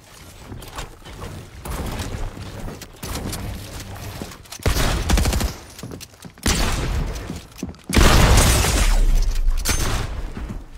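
Gunfire in the video game Fortnite during build-mode play: dense bursts of rapid shots and booms in loud clusters separated by brief gaps.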